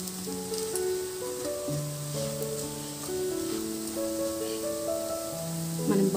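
Garlic chili paste fries in a pan with a low, constant sizzle, while gentle melodic background music plays clearly on top throughout.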